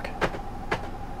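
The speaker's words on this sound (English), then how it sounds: "So we're just going to see if the doors lock." Power door locks on a 2014 Ford Transit van actuating after a missing fuse was replaced: two short, sharp mechanical clunks about half a second apart, close and clear against a quiet background.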